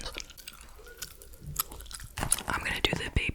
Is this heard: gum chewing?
yes